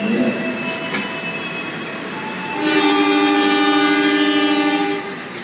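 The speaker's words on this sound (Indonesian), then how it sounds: "Berangkat lagi dari stasiun Kroya." A Jaka Tingkir economy-class train rumbles steadily with tonal hum and rising harmonic whine, growing louder partway through as it pulls away from Kroya station, no voices.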